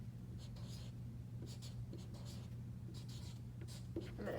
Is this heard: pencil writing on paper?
yes